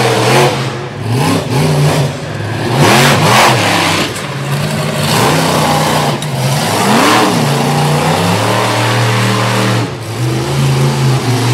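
A monster truck engine roars loudly and continuously at an event in Little Valley, New York, revving up and down in repeated surges with a deep, throaty growl, close by.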